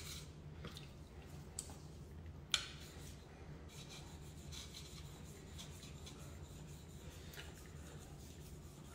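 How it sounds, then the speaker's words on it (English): A knife being polished on a Japanese natural whetstone, with quiet repeated rasping strokes of steel against stone and a couple of soft taps, faint and close, with no talking. "We're polishing a knife. We're on a Japanese natural stone right now."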